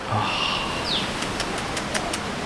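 Birds call and doves coo outside a balcony facing a garden at a park home, a few soft, brief calls over steady outdoor background hum.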